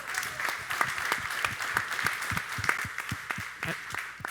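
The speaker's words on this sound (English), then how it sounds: "Big round of applause for Tariq." Audience at a performance keynote claps for Tariq with a scattered, moderately loud round of applause, individual claps standing out, with a faint voice underneath.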